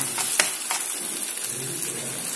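Pointed gourd (potol) fries in a pan, a steady sizzle with a few sharp scraping strokes of a spatula as the pieces are stirred, no voices.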